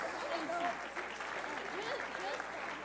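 Applause for children at a small gathering, with steady clapping mixed with cheerful voices and chatter throughout, fairly close.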